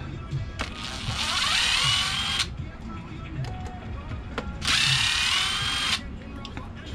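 A power drill whirs in two bursts of about two seconds each, removing screws from the rear differential of an ARRMA EXB Kraton RC car, close and fairly loud, with small clicks and handling noises between runs.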